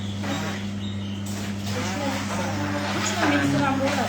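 A hand blender whirs steadily through cream cheese and sugar, a constant motor drone with a strong low hum that runs the whole time while someone talks over it.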